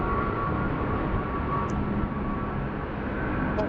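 Airliner taking off in high wind at Sydney Airport, a loud sustained jet engine roar with broadband rush, steady and close throughout.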